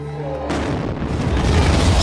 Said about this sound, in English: explosions near the finish line just a short while ago.